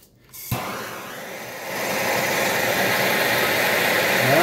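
Torch flame heating an aluminum wastegate to loosen threadlocker: a click, then a loud, steady broadband roar that builds and holds close by.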